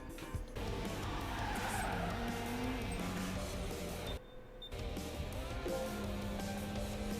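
A race car in Gran Turismo 5 skids and spins out, tires squealing loudly over a constant roaring engine, with a brief dip partway through before the screech resumes.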